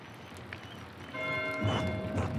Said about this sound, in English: Why is Matteo ringing the bell